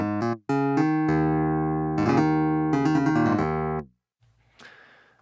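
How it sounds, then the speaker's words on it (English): Vintage Clav software instrument in Logic Pro, bright, twangy keyboard chords played in short bursts and sustained stabs, loud and close, ending with a brief pause and a faint noisy tail. "Now we've also got the vintage Clav."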